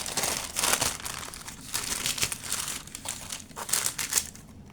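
A sheet of dried embossing glue is peeled away from paper with a close, loud, continuous crackling and crinkling. The sound comes in uneven bursts as it lifts, and no one talks over it.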